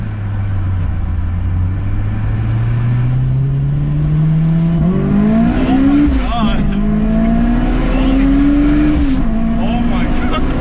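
A supercharged Honda S2000 drives on the road, its engine droning loud and close as revs climb steadily, then dip and rise again with gear changes, a high supercharger whine riding over the engine note.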